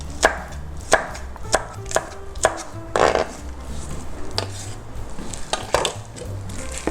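A knife chops cheongyang chili peppers with a run of evenly spaced, crisp knocks against the board. The chops grow quicker and softer toward the end, with a light clatter of kitchenware.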